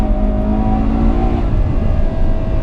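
A Ferrari 812 Superfast lapping the Fiorano circuit, its engine droning loud and steady with a tonal whine that drops at a gear shift midway, then carries on without pause.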